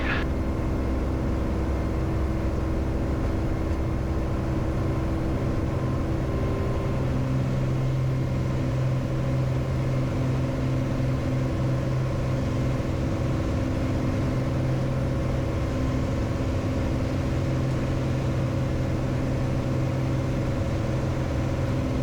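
A light aircraft engine runs at full takeoff power during the takeoff roll, a loud, steady droning roar that holds constant with only slight shifts in tone and no voices.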